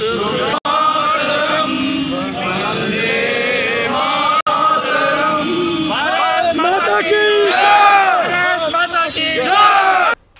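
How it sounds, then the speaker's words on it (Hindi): Protesters waving black flags outside Kanhaiya Kumar's rally venue chant and shout slogans in a loud, dense crowd, with bellowing voices rising and falling and a brief scuffle with police. "कन्हैया कुमार के सभा स्थल के बाहर काला झंडा के साथ मुर्दाबाद के नारे लगा रहे लोगों के साथ पुलिस की नोकझोंक हो गई।"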